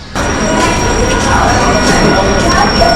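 Railway station ambience at Bangaon Junction while waiting for a train: a dense, steady wash of crowd noise, clattering and mechanical hum, close and loud, with a faint high tone running through it.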